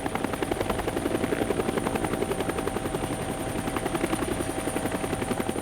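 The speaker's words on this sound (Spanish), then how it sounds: "Tim realizaba un trabajo rutinario para el Times Life en un helicóptero cerca de la frontera con Camboya." A helicopter flies near the Cambodian border during the Vietnam War in 1969, its rotor thumping in a fast steady rhythm over a loud engine whine, close and continuous throughout.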